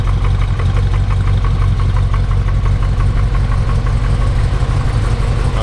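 A cold 1970 Chevrolet Chevelle SS with a 454 V8 idles steadily, a loud, low, even rumble with a faint regular pulse, close by and unchanging.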